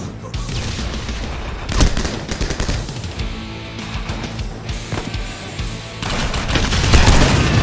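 Gunfire from the video game 7554 during the Dien Bien Phu battle: dense, loud bursts of automatic fire and single shots overlap with booming blasts, continuing almost without pause.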